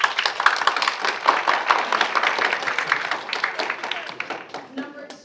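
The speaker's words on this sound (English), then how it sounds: "Go ahead and clap" Classroom students clapping together in a burst of handclaps, dense and lively for several seconds, with scattered voices chattering over it before the clapping thins out at the end.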